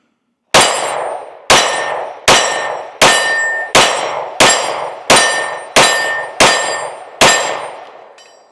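A Canik pistol's shots strike a steel target, giving nine loud, sharp metallic clangs at an even pace of roughly one every three-quarters of a second, each ringing out and decaying before the next.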